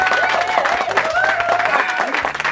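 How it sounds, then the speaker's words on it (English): A school performance awards crowd applauds and cheers for the Story of the Year winners, dense sustained clapping with raised voices and whoops mixed in. "A round of applause for everyone up here"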